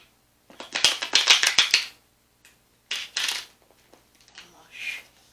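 A deck of tarot cards being shuffled in a pick-a-card love reading, a quick run of crisp riffling clicks followed by two shorter flurries of card handling, close and fairly loud with no talk over it.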